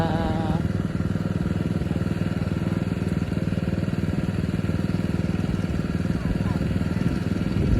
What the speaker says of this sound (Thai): กำลังสูบน้ำนะคะ